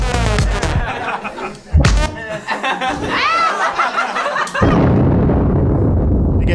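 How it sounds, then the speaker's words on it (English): A nuclear explosion sound effect used as a phone ringtone booms out loudly, a deep roaring blast that swells and rumbles on, mixed with laughter from a live audience. "It's the sound of a nuclear explosion,"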